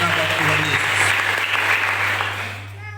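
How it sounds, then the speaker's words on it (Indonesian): Church congregation at a New Year thanksgiving service applauding, a full burst of clapping in a large room with a low steady hum beneath, fading toward the end. "Boleh kasih tepuk tangan untuk hormat dan kemuliaan bagi nama Tuhan Yesus."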